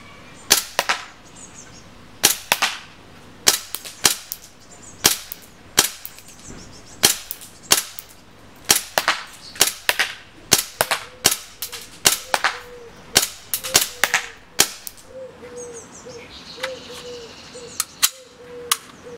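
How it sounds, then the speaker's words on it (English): An ICS BLE Alpha airsoft gun fired offhand outdoors, giving a steady series of sharp, loud individual shots spaced about a second apart, with birds chirping faintly in the background. "I will fire it unsupported offhand to give it a more real world accuracy test."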